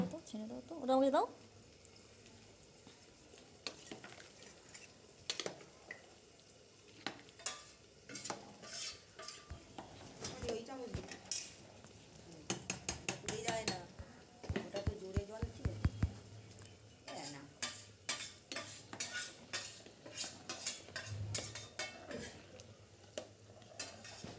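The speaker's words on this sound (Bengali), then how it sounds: "এবার এটাকে ভালো করে মিশিয়ে নেব।" Khichuri with fried vegetables is stirred in a pot at home, producing soft scraping and clinking from the spoon in quiet, irregular strokes while a voice speaks at times.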